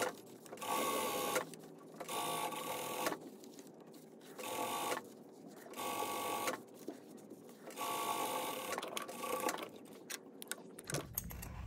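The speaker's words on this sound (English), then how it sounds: "I'm sewing at like a quarter inch seam allowance." A sewing machine stitches quarter-inch seams through the brim of a bucket hat made from a damaged vintage quilt, running in four steady bursts of rapid mechanical whirring separated by short pauses, close and clear with no talking.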